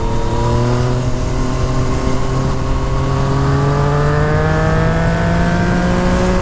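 A 2014 Yamaha MT-09 motorcycle with a full Akrapovic exhaust pulls hard under acceleration, its engine note rising steadily in pitch, loud and close throughout.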